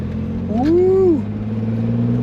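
A car engine revs once as the gas pedal is pushed, its pitch climbing smoothly and falling back within about a second before settling into a steady idle drone, heard close and loud.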